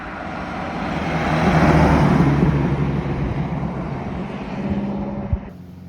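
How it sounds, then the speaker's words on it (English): A vintage 1920s Alvis 12/50 car drives along a road at a fair pace, its steady engine and road rumble swelling and easing throughout, with a brief knock near the end before the sound drops off. "the car travels reasonably fast, much faster than other road users often realise for what is effectively a 100-year-old car"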